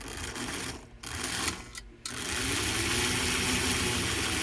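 A 1954 Northern engine runs in forward gear, a steady mechanical drone that dips and stutters briefly near the start, then settles into a loud, even, continuous run with no talking.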